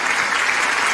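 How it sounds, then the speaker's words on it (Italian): A studio audience at a Bella Radio broadcast claps in a dense, even burst of applause, loud and continuous for the full second. "un applauso per Salvo Vecchio e Francesca"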